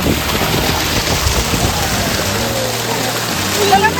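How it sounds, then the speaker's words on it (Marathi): Dense, loud monsoon rainfall in a jungle hisses steadily and close by, a continuous wash of drops with faint low rumbling underneath. "पाऊस वाढला असल्यामुळं"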